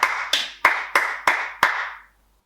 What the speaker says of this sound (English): And give yourselves a clap.